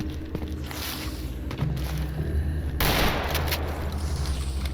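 Flashbang grenade in Stalker Anomaly bursting amid ongoing gunfire, a sudden loud blast followed by a sustained bright ringing wash over rattling shots and thuds.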